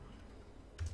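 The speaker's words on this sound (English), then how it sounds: "we're just gonna type score" Computer keyboard typing, a few quick soft key clicks near the end after a quiet room hiss.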